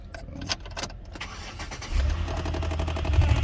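A Chevy Impala engine starting: key and starter clicks, a short crank, then the engine catches into a steady low rumble that grows slightly louder.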